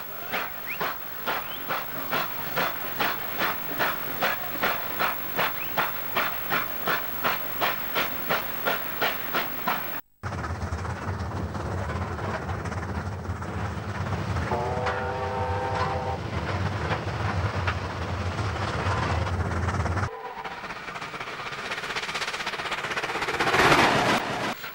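A well-kept NSW 38 class steam locomotive hauls the Southern Highlands Express out of Strathfield in 1962, with a loud, rapid exhaust beat, followed by a steady rumble of passing carriages, a brief whistle and a hiss of steam.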